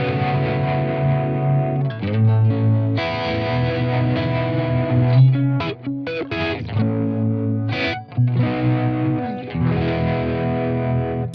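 Electric guitar chords through a Blackstar Polar 2 audio interface, pulsing with a harmonic tremolo, a wobbling, phasey throb with some drive, played steadily with brief pauses between phrases.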